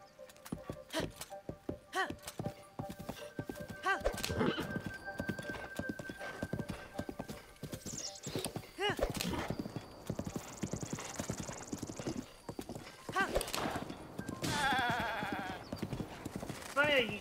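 A horse gallops with steady rapid clip-clop hoofbeats and whinnies in the video game Zelda: Breath of the Wild, close and loud, with game music and effects and a person talking throughout.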